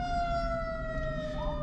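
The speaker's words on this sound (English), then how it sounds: "you're in the parking lot. You don't need the sirens on." An emergency vehicle siren in a parking lot, a steady, loud, slightly falling wail that holds for the whole stretch with no talk.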